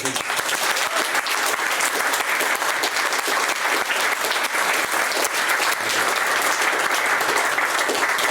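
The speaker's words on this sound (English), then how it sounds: "Can we have a round of applause?" A lecture audience at a philosophy event on Silicon Valley thinkers gives a steady, dense round of applause that continues evenly throughout.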